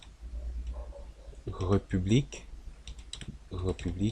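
Keystrokes on a computer keyboard as text is typed into a text box, light clicks scattered through the clip beneath someone speaking French over them.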